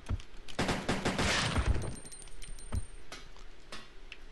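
Rapid bursts of bow gun fire in Resident Evil Code Veronica X, a dense volley of sharp shots in the first half thinning to scattered single reports, loud and alone.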